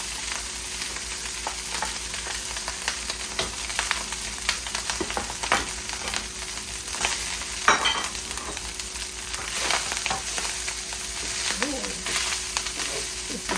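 Rice frying and sizzling in a hot pan for shrimp fried rice, a loud continuous close crackle broken by stirring scrapes and spatula clatter.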